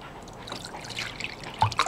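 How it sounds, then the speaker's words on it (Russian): Electrolyte liquid poured into a dish, heard as a faint, close trickle with scattered drips and small splashes that grow slightly louder toward the end, with no talking. "Просто берем электролит, наливаем в посуду"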